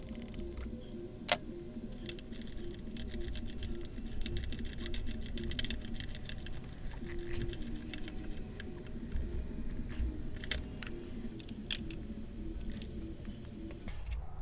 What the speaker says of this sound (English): let me tighten these nuts up and the remaining bolts